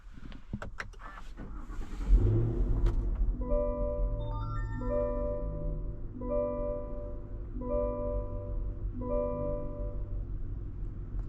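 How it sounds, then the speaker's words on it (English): A 2026 Cadillac Escalade-V with a 6.2-liter supercharged V8 pulls away after a loud start-up burst, then its engine hums steadily and fairly close, with a repeating, stepped rise and fall in pitch as it works through the gears. "today we're going for a drive in this 2026 Cadillac Escalade-V."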